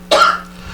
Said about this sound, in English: I don't think that cough button helped much.